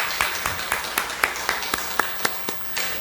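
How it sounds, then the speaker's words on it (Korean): Church congregation at a Sunday service clapping to welcome newcomers: a short stretch of rhythmic, evenly spaced claps blending into a group beat in a roomy hall. "우리 박수로 환영하며 축복하겠습니다"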